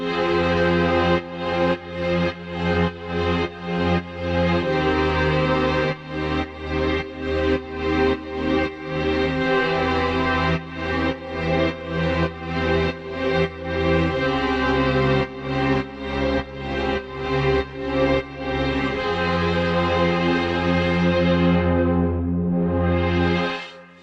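Rhythmic, pulsing Mellotron-style string chords, resampled from a recorded band, play in short repeated strokes, a grainy, vintage sampled tone with shifting harmonies, loud and without any voices.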